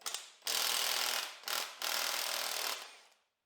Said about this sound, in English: now we take the bolt off. I'm using an impact because I want to try it